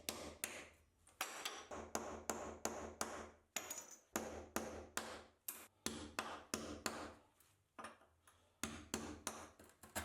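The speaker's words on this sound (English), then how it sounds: "the remaining tile gets weaker and can be easily cracked and the rest removed" A damaged tile is cracked out and removed with steady hammer strikes, a close, loud series of roughly two dozen sharp knocks in an uneven rhythm with brief pauses between bursts.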